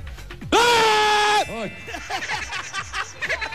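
On a Filipino TV variety show, a person lets out one loud, drawn-out yell lasting about a second. Scattered audience reactions and chatter follow.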